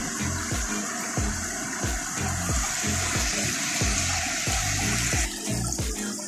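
Erskine Falls, a waterfall in Victoria, Australia, sends out a loud, steady rush of falling water that fills the whole clip, with a rhythmic series of low thumps over it.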